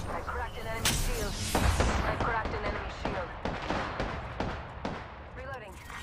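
Loud gunfire in the video game Apex Legends: rapid sharp shots and bursts crack one after another at close range, ringing out over game sounds, with a voice speaking over the action.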